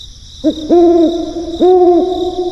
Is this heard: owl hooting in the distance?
yes